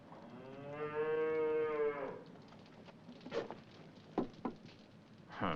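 A hungry cow lets out one long, loud, drawn-out moo, then falls quiet as soft scattered patters and rustles follow close by.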